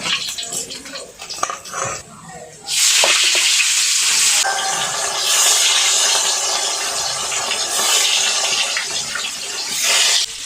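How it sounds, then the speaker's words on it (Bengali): Pieces of rohu fish sizzle steadily in hot oil in a pan, a loud, continuous hiss that rises after some early stirring and clatter, and no one talks over it. "আমি এখন এইভাবে লাল লাল করে সম্পূর্ণ মাছটা ভেজে নিব।"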